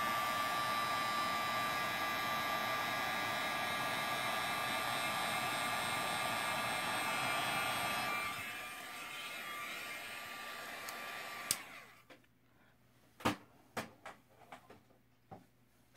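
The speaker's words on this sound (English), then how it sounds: "apply your heat from below your image" An embossing heat tool blows in a steady whirring drone for about eight seconds, then winds down and cuts off, leaving quiet room sound with several sharp taps and clicks of craft handling.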